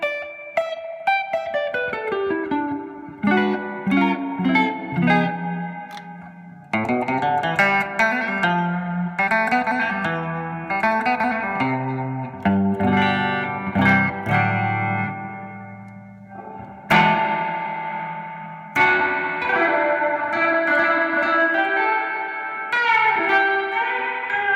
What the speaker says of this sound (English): The reverb goes on for miles.